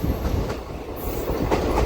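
A DEMU train runs between Kurnool and Guntakal. Steady, loud wheel and carriage rumble with faint clattering is heard from on board, with no voices.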